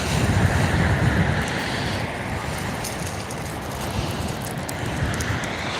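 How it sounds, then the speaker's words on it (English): Strong wind at sea buffets the microphone during kayak fishing, a steady loud roar with waves washing underneath and no pause throughout. "Wow, that wind is just like doubled."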